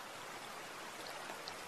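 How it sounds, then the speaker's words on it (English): A nearby stream with water flowing over smooth stones gives a steady, soft, continuous rush and trickle, fairly faint and unbroken throughout, with no voices. "notice the soothing sound of a nearby stream, its water flowing effortlessly over smooth"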